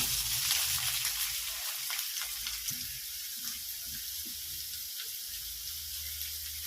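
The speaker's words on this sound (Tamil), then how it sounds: "இந்த தக்காளி இந்த வெங்காயம் பச்சை மிளகா போடுறோம் நம்ம எண்ணெய் காஞ்சிச்சாங்க" Tomato, onion and green chilli hit hot oil for a fish curry, producing a close, steady hissing sizzle throughout with slight fluctuations.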